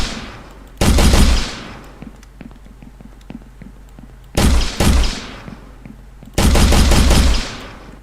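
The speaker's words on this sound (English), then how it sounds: "Now we got our pistol firing." Pistol fire in a video game under development, heard as three loud, sharp shots spaced a few seconds apart, each with a short decaying tail, over a steady low background hum.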